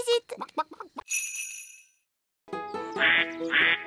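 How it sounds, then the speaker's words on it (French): Cartoon chickens clucking and squawking in a children's animated show, a burst of short bright calls, a ringing chime, a brief silence, then louder overlapping bird cries close up. "Ces animaux sont des poules."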